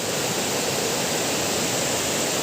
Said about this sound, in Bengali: নদীর আওয়াজ